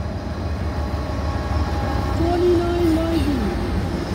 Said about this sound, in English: CN train on the CN Redditt Subdivision.